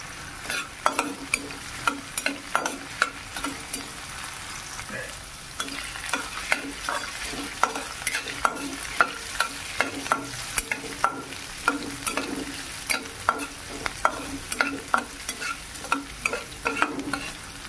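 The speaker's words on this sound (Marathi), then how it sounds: "मिरच्या घालायच्या, चांगलं परतून घ्यायचंय।" Chillies sautéing for paneer fried rice over high heat: a steady close sizzle of frying in a pan, broken by repeated sharp scrapes and clacks of a stirring spoon all the way through, with no talking.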